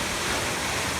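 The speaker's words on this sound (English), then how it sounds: "A waterfall on Sheep Creek." Waterfall on Sheep Creek near Mount St. Helens, a steady broadband rush of falling water filling the whole moment at even loudness, with no voices over it.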